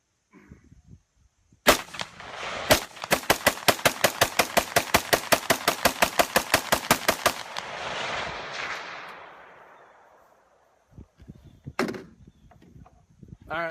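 A rifle fitted with an aftermarket Geissele trigger fires a rapid string of about two dozen loud, evenly spaced shots after two single opening shots, followed by a long echoing decay and one more distant bang near the end.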